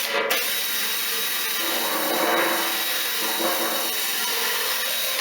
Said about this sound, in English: So I'm starting just with my drill and with the wire brush.